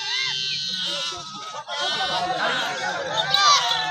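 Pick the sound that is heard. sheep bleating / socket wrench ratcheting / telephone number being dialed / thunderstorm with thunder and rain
sheep bleating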